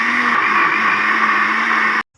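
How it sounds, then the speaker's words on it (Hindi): Electric grinder blending soaked pumpkin rice and chana dal in a home kitchen, a steady loud whirring drone for two seconds that cuts off abruptly. "इसे अब मैं पीस लेती हूँ।"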